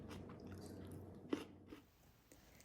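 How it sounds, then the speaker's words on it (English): Raw chayote squash is crunched close to the ear, with several crisp bites and wet chewing crackles, one sharp crack standing out, then softer chewing fading toward the end, no talking over it. "Do you hear that crunch?"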